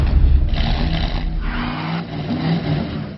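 A Volvo S60 Polestar with over 360 horsepower accelerates hard, heard from inside the cabin as a loud, rising engine roar with muffled road rumble, briefly dipping before surging again.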